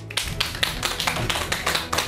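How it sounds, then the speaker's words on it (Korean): A studio audience greets a Seoul National University medical school emeritus professor with brisk, evenly spaced clapping over a low steady background, lasting a couple of seconds without talk. "큰 박수 부탁드립니다"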